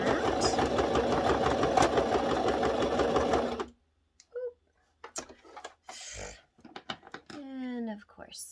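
A sewing machine runs steadily for several seconds while stitching around the edge of a drawstring bag, a dense continuous whir that stops abruptly, followed by brief scattered handling sounds and a short bit of speech.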